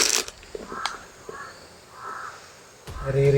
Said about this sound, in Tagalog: Yung mga uwak.